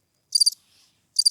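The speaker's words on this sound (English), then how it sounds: "Cricket's playing right now" A cricket chirps in two short bursts of rapid, high-pitched trills separated by near silence, clear and close.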